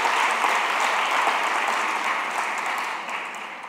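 A church congregation applauding during a Spanish-language sermon service, dense, sustained clapping that holds steady and then tapers slightly toward the end, with no talk over it.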